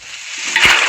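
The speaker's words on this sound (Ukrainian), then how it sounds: "І все-таки беремо в неї відро води." A single short splash of water from a bucket in Minecraft, bright and close, rising quickly then fading within a second.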